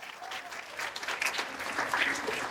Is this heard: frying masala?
no